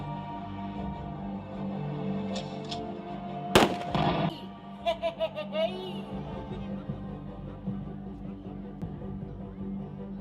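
Sharp gunshot cracks ring out during a light-and-sound stage show, in a shooting contest scene, one loud blast followed by a few smaller pops over a humming background with faint voices.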